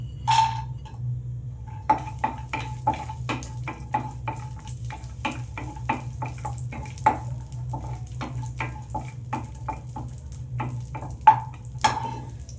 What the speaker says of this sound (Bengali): এবার আমি এই কাজু কিশমিশটা ভেজে নেব ঘিয়ের ওপর।